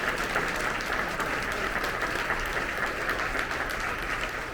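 A luncheon crowd at a Minority Enterprise Development Week awards event gives a committee a sustained, dense round of applause, steady and even from start to finish.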